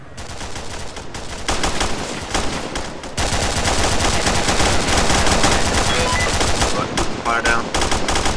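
Gunfire from an ARMA II ambush: sustained, loud, overlapping bursts of automatic weapons fire that barely pause, with a brief break around the three-second mark before the barrage resumes at full intensity.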